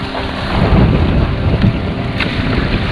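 Wind roars over rough, choppy open sea around a Hobie Tandem kayak, with waves slapping and rushing against the hull in a loud, continuous wash.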